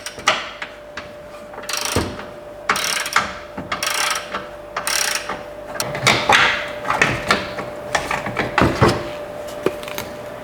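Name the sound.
13mm socket wrench removing Chrysler 200 battery hold-down bar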